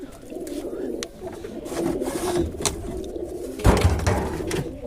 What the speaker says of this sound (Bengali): আমাদের ছোটো খোপে কিছু কবুতর ভিতরে আটকানো আছে চলেন বাইরে ছেড়ে দিই